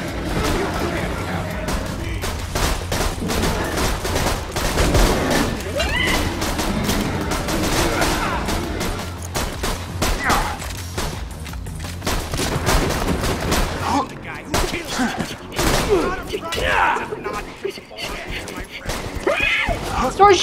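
Gunfire in the video game Borderlands 2, a dense, continuous barrage of rapid shots and booming impacts from several weapons, loud and close, with excited voices shouting over the shooting.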